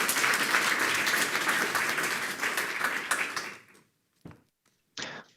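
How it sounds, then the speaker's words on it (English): A meetup audience gives warm applause to welcome a remote speaker joining by call. The dense clapping runs for about three and a half seconds, then fades out, followed by a few brief isolated sounds and near silence. "Please give Steffen a warm applause."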